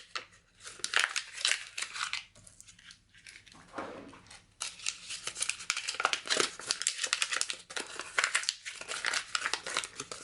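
Paper crumpled by hand for a crinkled effect on a craft page, with dense crackling and crinkling in irregular bursts and short pauses, close and fairly loud.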